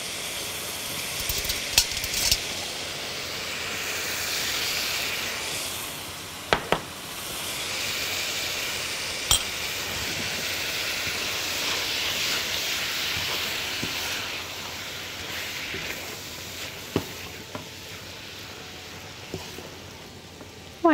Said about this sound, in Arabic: وعايزين اللحمة تاخد تحميرة كويسة، مش لازم تستوي على الآخر